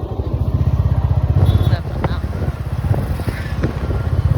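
A motorcycle carrying three riders travels along a road, its engine giving a steady close putter with pulsing rhythm throughout, loud, while people talk over it.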